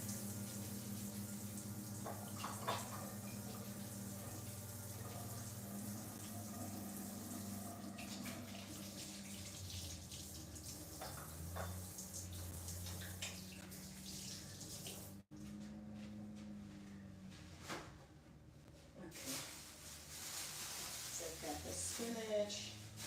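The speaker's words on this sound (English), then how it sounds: "Okay, so I am going to wash my hands." Water runs steadily from a kitchen tap as hands are washed under it, with a sink-filling rush under frequent nearby talk and kitchen clatter.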